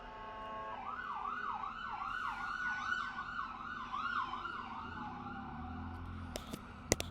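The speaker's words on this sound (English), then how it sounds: "Piercing siren." A piercing emergency siren wails up and down in a rapid repeating sweep, fairly loud and continuous for several seconds before fading, with sharp clicks at the end.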